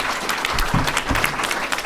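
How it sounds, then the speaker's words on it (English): Audience applause for guests at a horror film reunion event, a steady wash of many hands clapping throughout, fairly loud and close, with no speech over it. "Give yourselves today. a round of applause."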